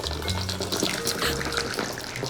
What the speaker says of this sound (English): And they're still spitting because they're still a little bit wet